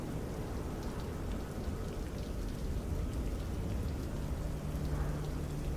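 Steady rain falling in Microsoft Flight Simulator 2024 over Atlanta, a dense continuous patter with no talk, even and close throughout.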